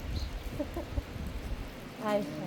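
Rain falls outdoors on a wet day, a steady soft hiss with scattered patters, continuous and moderately close under brief background sounds.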